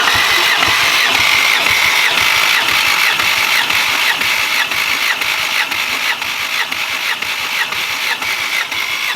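Car engine cranking over on the starter during a cylinder compression test, a loud, rapid, rhythmic chugging that continues evenly for about nine seconds without firing up, close by.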